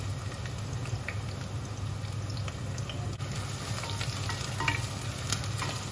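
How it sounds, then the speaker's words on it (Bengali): Sliced onions for birista crackle and sizzle steadily in a shallow layer of oil, a continuous close frying hiss with occasional sharper pops and no voices. "তার মধ্যেই আমি বারিস্তা ভেজে নেবো।"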